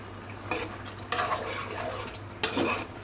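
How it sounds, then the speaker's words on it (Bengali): Turmeric being stirred into a pot of bottle gourd and shrimp curry: three scraping, clattering spoon-against-pan passes at a moderate level over a low steady hum, no talking. "এখন এটা নেড়ে দিচ্ছি মিশিয়ে দিচ্ছি হলুদটা"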